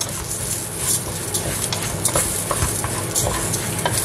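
Rice and red lentils stirred into golden fried onions in a pan give a continuous close-up sizzle with scraping stir strokes throughout, with no talking.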